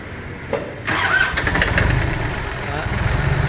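An L1-18 engine cranks briefly, catches and settles at once into a loud, steady running rumble close by.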